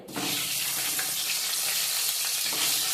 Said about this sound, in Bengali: এবার আমি এক এক করে ডিমগুলো ছেড়ে দেব তেলের মধ্যে